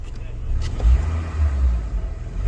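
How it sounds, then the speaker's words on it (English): A car engine with a bad VVT system revs under throttle, a deep close rumble that rises and swells a couple of times, with a voice speaking over it. "let's go and rev up the throttle of the car and see if it's responsive"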